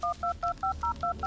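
A phone dials a call in the Blair Witch video game: a quick, evenly spaced run of about seven clear touch-tone beeps, loud and alone.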